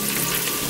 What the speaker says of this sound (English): stir fry them for about another 2 to 3 minutes.